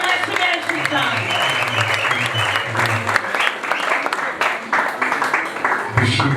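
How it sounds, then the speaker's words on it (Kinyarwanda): A church congregation breaks into loud, sustained applause for God, a thick wash of clapping that continues throughout while a voice speaks over it. "Komera Imana amashyi menshi cyane."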